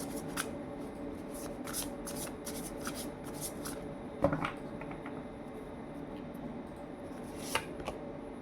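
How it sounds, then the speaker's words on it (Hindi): Tarot cards being shuffled by hand in a card reading, a steady run of soft riffling and papery flicks with a couple of sharper slaps, close and fairly quiet with no talking. "तो चलिए अभी हम और थोड़े से कार्ड्स लेंगे"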